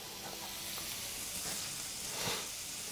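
Cooked shrimp in a frying pan just off the heat, giving a steady, soft sizzle and hiss close by, with faint crackles throughout and no voices.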